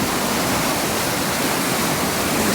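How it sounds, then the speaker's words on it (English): A small creek running high with floodwater after heavy rain, a loud, steady broadband rush of water close by, with no voices. "I'll give you a look at our actual creek."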